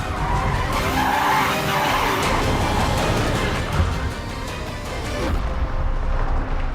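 Hypercar sliding under power with tires skidding and squealing in a long, continuous scrub over a steady engine drone, loud and close throughout.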